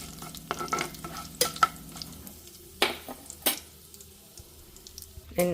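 Curry leaves and lentils fry in a pan for potato fried rice under a soft sizzle, broken by scraping stirs and sharp clacks of a spatula against the pan, close by and irregular, with no voices.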